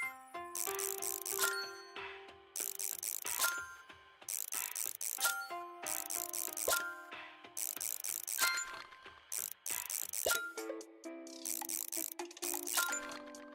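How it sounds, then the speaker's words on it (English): Bolts being tightened in the House Builder video game, a run of quick ratcheting clicks in short bursts with brief pauses between them, heard alone. "I feel like I should be tightening these bolts a little more"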